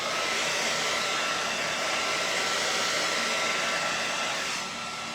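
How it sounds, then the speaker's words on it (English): A hot hair dryer blows steadily on fresh paint of a beachy turtle painting, giving a continuous loud whoosh and hum with no talk, then easing slightly at the end. "Nice hot dryer. I just got a dryer, but some people have that tool. I just use my dryer. Dries fast."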